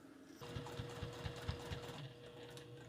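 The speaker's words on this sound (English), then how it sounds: "All right, to the sewing machine. Press your foot down always helps." A sewing machine top-stitching through both sides of a fabric bag, running as a quiet, even mechanical chatter of rapid stitches for a few seconds.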